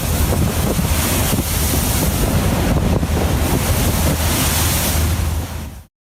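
Turbulent North Atlantic seas churn around a large fishing boat, with a continuous roar of crashing waves and heavy wind buffeting the microphone, loud throughout before cutting off abruptly.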